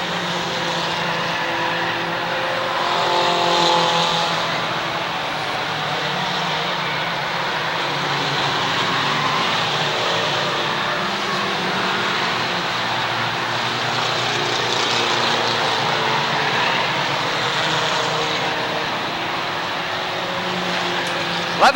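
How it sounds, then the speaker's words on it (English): Mini Stock race cars roar around the Waterford Speedbowl oval during a 1992 feature race, a continuous loud engine drone with passing surges, heard from the stands without talk. "Tom Metcalf in that red 6M car is your leader."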